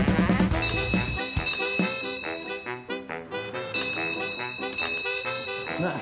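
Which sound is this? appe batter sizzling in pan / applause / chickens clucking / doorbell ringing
doorbell ringing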